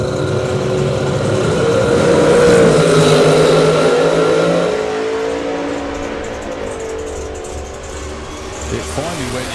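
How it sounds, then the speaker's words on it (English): A drag racing car at the Summer Nationals holds a loud, sustained engine note on the rev limiter before the pitch drops and shifts into high gear, heard under announcers talking. "you could hear it hit the limiter and stay there for a little while before it actually shifted"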